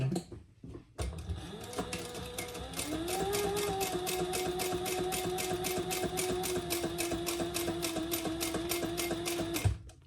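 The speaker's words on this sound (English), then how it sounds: "Now we're going to stitch that on at the seam that's in the pattern, which is just 1/4 inch." Sewing machine stitching a quarter-inch seam on a retro-style sling bag, a steady rapid whirring run of stitches after a brief start, close and loud with no talk.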